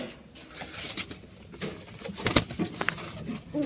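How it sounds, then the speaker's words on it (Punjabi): Pigeons released from a rooftop loft produce scattered wing flaps, soft scuffling and a few sharp clicks, faint and irregular against a quiet background. "ਪਹੁੰਚ ਗਏ ਉੱਪਰ ਤੇ ਕਬੂਤਰ ਖੋਲ ਦਈਏ"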